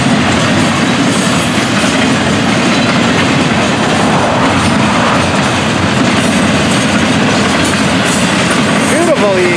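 An FEC train rolls past on the rails at close range, loud and continuous. Wheels rumble and clack throughout, and a brief squeal rises near the end.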